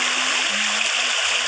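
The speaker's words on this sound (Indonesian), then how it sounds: "perpaduan suara sungai sama suara hem-nya itu lumayan ya" A steady rushing of flowing water fills the air evenly, with a faint low tone humming underneath.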